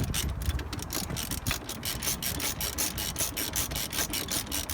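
Ratchet wrench undoing nuts on a car's front suspension during a sealed bearing replacement, giving a fast, continuous run of close, rhythmic clicking strokes.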